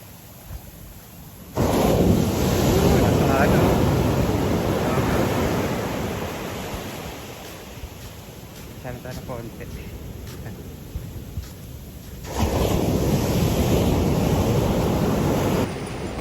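Strong ocean waves pound a beach at Dinadiawan, Dipaculao, Aurora, a loud, steady rushing roar that surges and swells around the listener, fading slightly in the middle before building again.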